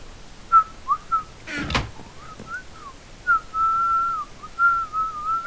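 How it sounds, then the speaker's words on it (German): Someone whistling a wavering tune with short phrases and one longer held note, close up and alone, with a brief knock in the middle. "kann ich gut pfeifen?"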